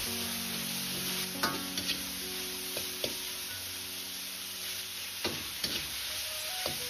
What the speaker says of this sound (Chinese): 然后倒入煸炒过的花菜翻炒均匀